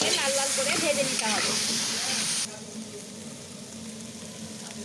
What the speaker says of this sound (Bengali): আলুগুলোকে লাল লাল করে ভেজে লবণ দিয়ে দিলাম আর হলুদ দিয়ে এগুলোকে লাল লাল করে ভেজে নিতে হবে